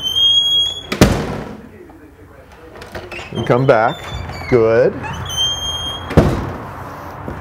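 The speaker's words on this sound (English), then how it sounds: "And close the door behind me." An indoor door swings shut with a sharp, loud thud, and a second similar knock follows several seconds later; a person speaks briefly in between, and faint high electronic beeps sound in the background.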